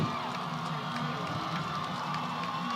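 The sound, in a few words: football game crowd cheering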